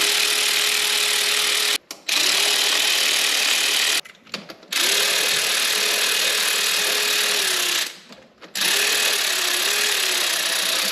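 A power drill drives in the coil pack bolts on an engine, giving three long, loud, close whirring runs of a few seconds each, separated by brief pauses, with no talking.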